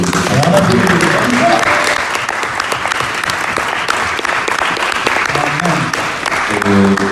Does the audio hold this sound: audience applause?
yes